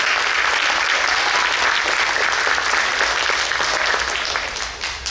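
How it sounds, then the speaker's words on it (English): Sustained audience applause at an Arangetram dance debut, honoring the host mother, dense and steady for about five seconds before thinning out at the end. "A big round of applause for dear Aruna"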